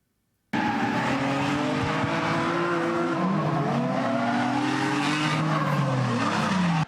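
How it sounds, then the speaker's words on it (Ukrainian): Drift cars at a drift taxi show in Cherkasy, engines roaring loudly with continuous tire squeal and skidding, pitch sweeping up and down as the cars slide, close and sustained without talk. "Ревуть мотори у повітрі пахне паленою гумою"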